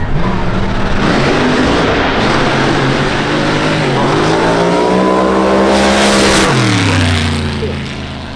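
A Cummins diesel drag truck roars down a quarter-mile strip at Maryland International Raceway, its loud engine climbing steadily through the gears before the pitch dips and falls away at the end.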